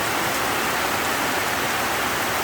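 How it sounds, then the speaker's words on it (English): Heavy rain pours down in the Philippines, a dense, loud, unbroken hiss of water striking surfaces, with no voices heard. "But man, is it just pouring down."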